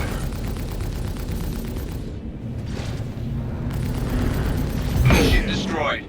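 In the space game Star Citizen, a ship takes fire and blows up, with a dense rumble of weapon fire and booms that builds to a loud explosion near the end, under a speaking voice.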